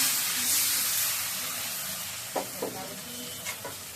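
Hot oil in a pan after frying local koi fish, with bay leaves dropped in and coconut milk poured, producing a steady hiss followed by a few close scrapes and taps.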